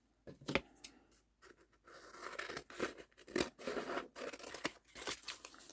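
Scissors snip through sewn fabric to cut it in half, giving a run of crisp, close cutting and crunching strokes at an irregular rhythm with short pauses, heard alone in a quiet room.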